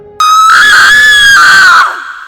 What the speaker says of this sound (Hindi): मुझे मेरी माँ की चिल्लाने की आवाज़ आई